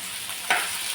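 Cumin seeds and grated coconut roasting in a pan, a steady soft sizzle with a brief louder crackle as the cumin goes in, close and alone.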